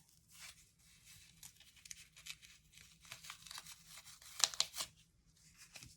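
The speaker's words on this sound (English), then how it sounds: "it's not very hard to just reach in and remove the index card" A paper index card is torn free along machine-stitched perforations for a pastel stuffed angel ornament craft, giving a run of close, soft ripping and crinkling bursts that peak in a couple of sharp tears near the end.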